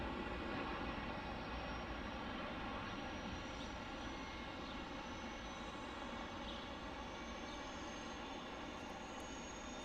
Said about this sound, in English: Airbus. I love that sound.